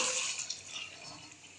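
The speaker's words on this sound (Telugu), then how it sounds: "ఇప్పుడు చూడండి, ఇప్పుడు వాటర్ వేసేసాను." Water pours steadily into a cooking pot for chicken biryani, a soft continuous splash and trickle heard close by without speech.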